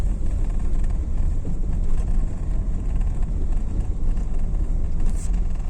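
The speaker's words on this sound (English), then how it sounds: "Your car's quite smooth for kind of a clunky car." A car engine hums steadily at close range while driving along a beach on an evening drive, a continuous low rumble mixed with road and wind noise and no talking.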